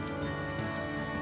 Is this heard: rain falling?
yes